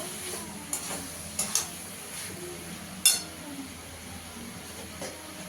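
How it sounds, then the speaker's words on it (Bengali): A spatula works pumpkin through poppy seed paste in a hot pan, giving soft steady sizzling with a few sharp scrapes and taps on the pan, close and fairly quiet, with no talk. "কুমড়োটা দিয়ে ভালো করে মিশিয়ে নেব।"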